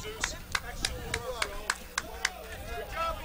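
A soccer coach claps his hands at a Tampa Bay Rowdies match, about ten crisp, evenly spaced claps, heard faintly beneath a commentator's voice and stadium ambience.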